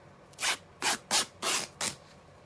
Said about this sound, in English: And I'm going to tear that one.